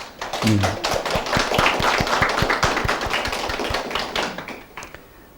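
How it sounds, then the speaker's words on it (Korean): A church congregation at a founding worship service clapping together in prayer, a dense crowd applause with a strong steady rhythmic beat running throughout, loud and close, fading slightly toward the end. "우리 이 시간 몽골 은혜교회 창립 예배를 위해서 우리 다 함께 기도하는 마음으로 박수 한번 치겠습니다"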